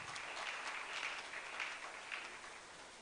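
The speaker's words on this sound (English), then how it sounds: "let's applaud him once again" Workshop audience for public servants clapping together, a dense even patter of many hands heard at a moderate distance for about three seconds.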